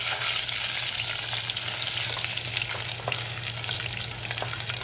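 Cashews fry in ghee with a steady, dense sizzle and crackle, close and continuous, with faint stirring scrapes and no talking.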